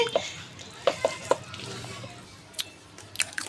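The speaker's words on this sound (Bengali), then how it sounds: "দেখেন সব কিছু একসাথে দিয়ে ভালো করে এটাকে আমি মেখে নিচ্ছি" Flattened rice and potato snack mixture is mixed by hand in a bowl, making soft, close squishing and stirring sounds with a few sharp clicks and taps against the bowl.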